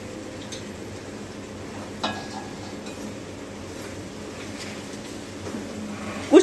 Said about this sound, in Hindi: घी हल्का सा गर्म हो गया और इसमें हमने डाल दी सूजी।